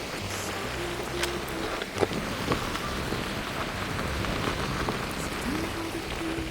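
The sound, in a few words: rain falling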